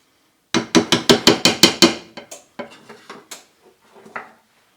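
A spatula scrapes and knocks around a mixing bowl of pumpkin roll cake batter in a quick burst of about eight sharp, close clinks, followed by softer, scattered taps as the stirring slows.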